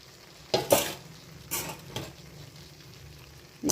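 Idiyappam string hoppers, soaked in milk, are folded gently into chicken biryani in a pot, with a few soft scraping strokes of the spoon over a faint background hiss, close and quiet.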